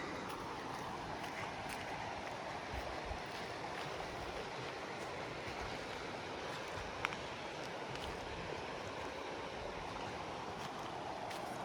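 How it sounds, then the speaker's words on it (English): A river beside a campsite rushes steadily as broadband water noise, continuous and fairly loud, with no voices. "Going down to the river."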